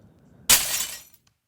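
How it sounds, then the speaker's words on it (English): A single dry glass-break effect without added processing: a sudden bright crash of shattering glass that decays over about half a second, followed by a faint tinkle. "first one we have here is a dry glass break sound"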